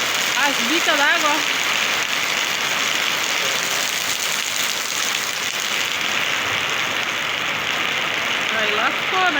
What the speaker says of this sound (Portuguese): Esse lugar chove todo santo dia.